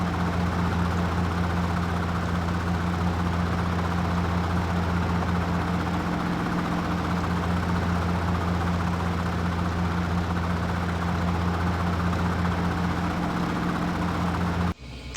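Robinson R44 Raven II helicopter in Microsoft Flight Simulator, a steady loud engine and rotor drone heard from an external view, unbroken until a sudden drop at the very end.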